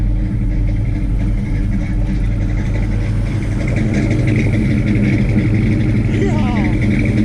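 A Mopar 360 small-block V8 in a Little Red Express truck idles rough, with a steady, close, low rumble and a slightly uneven pulse that lasts throughout.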